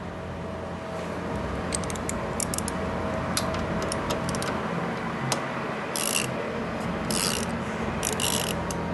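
A hand ratchet turning a 12mm socket on the rear shock bolt of a Chinese scooter gives a run of quick clicking bursts, rising to louder, denser ratcheting toward the end over a steady background hum.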